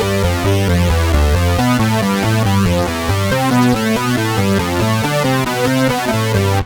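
Keyboard playing repetitive Hanon practice patterns, a fast, even, continuous run of notes climbing in steady sequence, loud and close with no talking.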